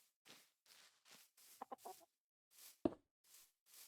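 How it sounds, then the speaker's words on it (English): Minecraft chickens cluck softly in short, separate bursts spaced through a few seconds, with one sharper, louder cluck near the end, heard alone and fairly faint. "Unfortunately, I can't do anything about the chickens."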